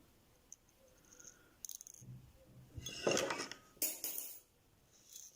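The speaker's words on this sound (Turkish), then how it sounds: "Makasım da düştü hemen onu da alayım." Metal scissors dropped during handmade needle lace beadwork, a couple of sharp clinks and a brief rattle as they land and are picked up, close but fairly quiet with no talk.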